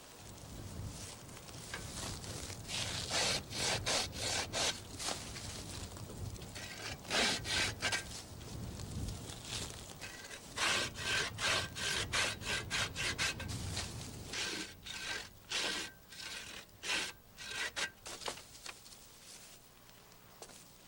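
Steady back-and-forth strokes of a hand saw cutting through the side branches of a young black walnut sapling during pruning, rhythmic and close. The pace turns choppier and more broken toward the end.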